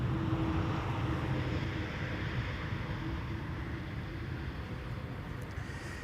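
A Boeing 787-10 airliner lands on the Polderbaan at Amsterdam Schiphol, its jet engines giving a broad, steady roar that slowly fades, heard from a distance outdoors.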